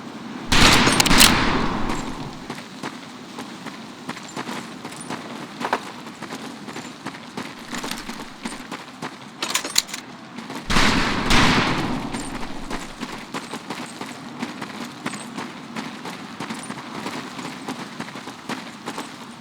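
Rifle gunfire at a shooting practice range in the video game Medal of Honor Pacific Assault, with two loud bursts of rapid shots and scattered single cracks in between, no voices.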